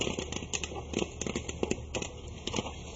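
Popcorn pops in a popper in a rapid, irregular scatter of sharp little cracks, fairly faint over a steady low hum.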